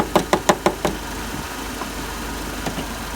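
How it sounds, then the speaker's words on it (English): A car's air-conditioning compressor clutch engages during an AC recharge, giving about five quick metallic knocks in a row, then a lone knock later, over the low steady hum of the idling engine. "the compressor's kicked in there"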